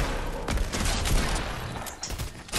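Rapid bursts of gunfire in the video game Fortnite, a dense run of overlapping shots with no single sniper crack standing out, loud and close throughout.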